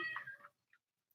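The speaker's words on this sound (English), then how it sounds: "The cat got out again." A cat that slipped outside gives a short meow, close and fairly clear, followed by a few faint brief sounds and near silence.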